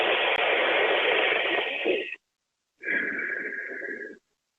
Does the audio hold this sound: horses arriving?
no